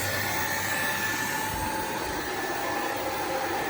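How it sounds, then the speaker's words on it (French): A steady, loud blowing whir of a hair dryer running on a home solar power setup runs continuously nearby, with a faint low thump partway through. "je vais brancher le sèche-cheveux en plus."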